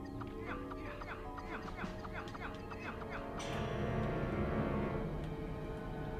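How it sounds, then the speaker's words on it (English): Zombie chickens in the video game Rayman Revolution cluck in short repeated bursts over a dense layer of game music and ambience, with the mix swelling louder partway through. "Bastard zombie chickens."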